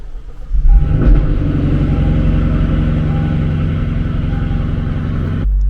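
A Lexus LC 500 V8 fitted with a throttle response controller starts up and settles into a deep, loud, steady idle rumble with a brief rev at start, running alone until cutting off abruptly near the end.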